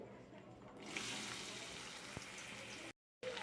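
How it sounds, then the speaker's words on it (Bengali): Potatoes dropped into hot oil, giving a soft steady sizzle that starts after a brief quiet moment and continues evenly, with a short gap of silence near the end. "আলুটা ভাজা বসিয়ে দিচ্ছি"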